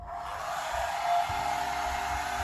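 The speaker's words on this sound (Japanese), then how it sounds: "ドライヤーで乾燥させる。" A hair dryer runs on a low, gentle setting, giving a steady close airy whoosh with a faint motor whine that holds evenly throughout, without any speech.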